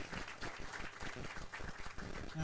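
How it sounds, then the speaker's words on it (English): A crowd at a road-widening groundbreaking ceremony applauds with steady, dense clapping that continues throughout at moderate, slightly distant volume. "How about a round of applause for Mayor Javier Villalobos?"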